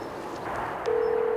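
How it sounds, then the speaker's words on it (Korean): A phone number being dialed on a mobile phone outdoors beside a pine tree, a few soft key tones followed by a steady electronic tone over light wind noise. "어디론가 급히 전화를 겁니다."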